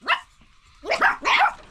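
Dogs bark up close and loudly: one sharp bark, a short pause, then two more barks in quick succession.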